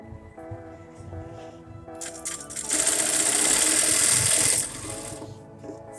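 A sewing machine stitches fabric for a small piped cushion. A few slow mechanical clicks build into a loud, steady whirring run up close, then slow back down.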